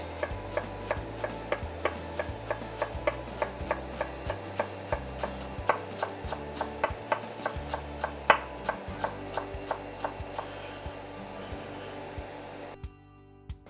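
Chives being chopped or snipped on a board for shakshuka, a steady run of crisp, evenly spaced cuts over roughly thirteen seconds, close and moderately loud, with a low musical bed underneath and no talking.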